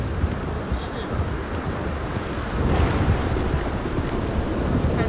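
Steady rain pours in the game Red Dead Redemption 2, a constant wash of hiss with a low rumbling swell of thunder midway.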